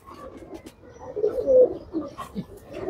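A Bagha-pattern racing pigeon at a champion pigeon tournament gives soft, close, low cooing, a few rolling coos rising and falling over about three seconds.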